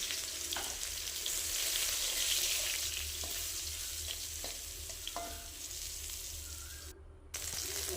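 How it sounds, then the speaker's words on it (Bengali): Drumstick stems frying in hot oil in a wok, a continuous crackling sizzle with a few spoon scrapes and clinks, fairly quiet and without talk. "তারপর কড়াই বসিয়ে দিয়েছি, তেল দিয়ে দিয়েছি, তেলও গরম হয়ে গেছে। এবার আমি ডাঁটাগুলোকে দিয়ে দেবো।"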